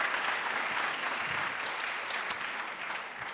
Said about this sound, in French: vous pouvez applaudir déjà nos panélistes